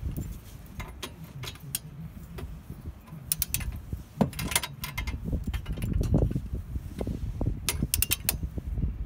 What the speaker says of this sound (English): I've turned my impact down to 1 so that it doesn't over tighten these.